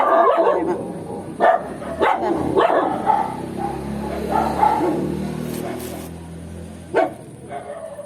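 Dogs bark nearby in short, repeated bursts, with a few yips and soft whimpers between them, standing out sharply over a quieter background.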